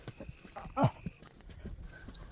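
A horse carries a rider on a hill trail through the Vattavada valleys, its hooves giving quiet, uneven clip-clops close by, with one louder snort-like burst midway and low background noise.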